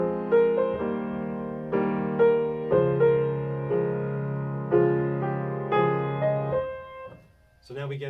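Solo piano plays the chords of a song with the melody on top. Sustained, ringing chord changes repeat in a steady pattern and fade near the end, followed by a brief noise.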